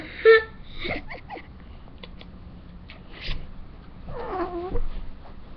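A pet cat lets out a short sharp yowl near the start and a longer wavering cry near the end during a game of hide and seek indoors, with soft rustling and handling noises in between.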